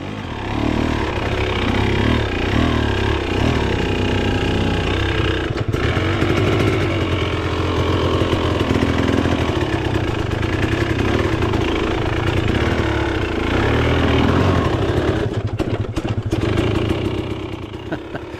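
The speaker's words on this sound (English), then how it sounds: "Bike just refuses to stall now with the power valve cover" A dirt bike fitted with a TSP power valve cover idles low, a loud, steady, slightly uneven two-stroke burble held close for the whole stretch, dropping off briefly near the end, with no talking.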